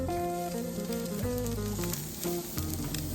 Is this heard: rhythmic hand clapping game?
no